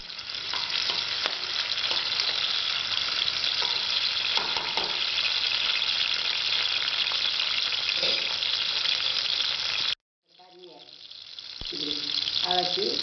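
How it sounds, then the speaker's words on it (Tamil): Onions sauté in a pan for a goat head curry, a steady close sizzle with occasional stirring scrapes that cuts off abruptly, then a few sharp clinks and the frying returns. "வெங்காயத்தை நல்லா வதக்கிட்டு"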